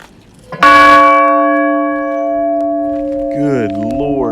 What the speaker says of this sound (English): That is a bell.